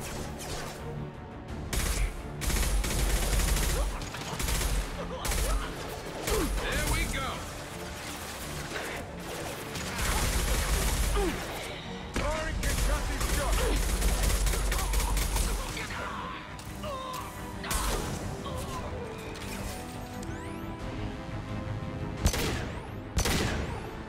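Rapid gunfire and blasts from a Mass Effect 2 firefight rattle in dense, repeated bursts, loud and close, with crashes and impacts mixed in and a voice speaking at times over the din.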